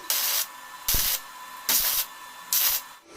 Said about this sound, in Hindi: अभी मैं इसको एमरी पेपर से घिस लेता हूं